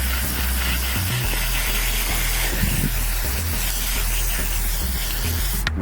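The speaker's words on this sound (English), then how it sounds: "after you spray it on, you can like just get a cloth and kind of move it around" A WD-40 all-purpose spray can hisses steadily as it coats chair cloth, a close, continuous broadband spray that runs nearly the whole time with a low rumble underneath.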